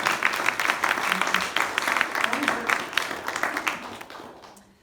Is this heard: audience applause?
yes